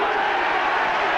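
A 1989 rugby match crowd at Neath facing the All Blacks roars in a dense, steady swell of cheering, with a commentator talking over it.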